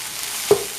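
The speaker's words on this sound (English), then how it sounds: "Now that our rice is frying off, you hear it?" Rice frying off in a pan for vegetable fried rice, a steady soft sizzle throughout with one brief louder crackle or stir midway, no voices.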